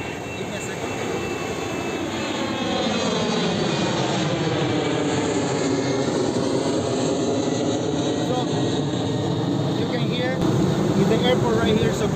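An airplane passes close by near an airport, a loud, steady engine roar whose pitch sweeps downward as it goes past, with voices faintly underneath.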